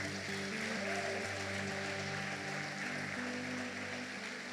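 A church congregation applauds during a Sunday evening service, a steady wash of clapping over sustained musical tones underneath.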